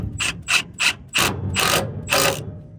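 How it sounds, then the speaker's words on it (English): An impact wrench with a socket working on a Massey 300 tractor: six sharp, loud ratcheting bursts up close, three short ones, a pause, then three longer hammering runs. "Grab the impact in the socket"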